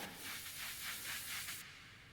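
An uplifter riser in a lo-fi house beat: a breathy, noise-filled swell with pulsing texture that rises and sustains, then cuts off abruptly near the end.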